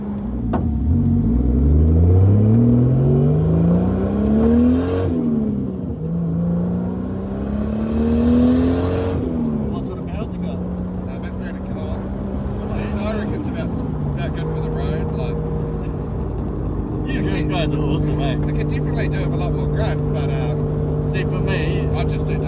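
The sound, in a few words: Nissan S15 Silvia RB25DET turbo engine revving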